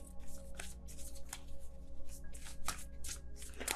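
A deck of tarot cards being shuffled by hand, a steady run of close riffling and sliding bursts with soft flutters and slaps continuing throughout with no talk.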